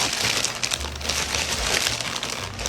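Close, continuous crinkling and rustling of plastic packaging being handled and pulled open, with no voices.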